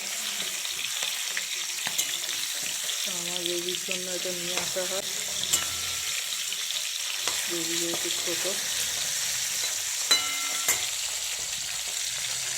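Singhi fish fries in hot oil with a steady, bright sizzle and occasional clinks of a utensil, while someone talks intermittently over the cooking.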